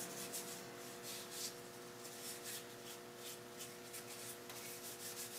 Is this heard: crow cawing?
no